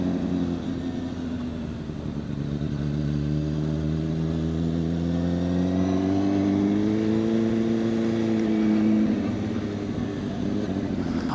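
CFMOTO 750SR-S motorcycle engine while riding, a steady mid-pitched drone that rises and falls slightly with throttle, continuous and close throughout with wind noise.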